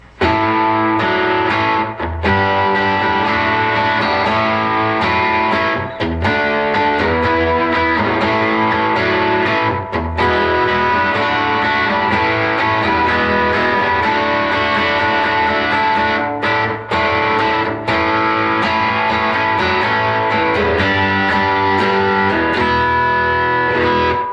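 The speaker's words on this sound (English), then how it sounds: "I'm running a digital Tube Screamer from my HX Effects." Electric guitar through an amp, overdriven by a digital Tube Screamer from a Line 6 HX Effects unit, playing chords and riffs, gritty and saturated, continuous with brief gaps between phrases.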